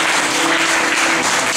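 A church congregation applauding together, a dense, steady wash of clapping filling the room without a break.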